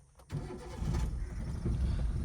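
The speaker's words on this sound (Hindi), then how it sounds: "चलो अभी इंजन स्टार्ट करो" A car engine cranks and catches during a driving lesson, then settles into a steady, close running rumble with no talking.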